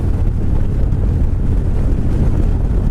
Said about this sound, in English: the wind's not too bad today